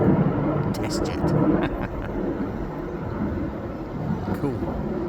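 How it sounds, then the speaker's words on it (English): An Embraer E190 test jet passes overhead, giving a steady, broad roar that holds across the whole stretch, with voices talking over it. "Embraer E190 test jet."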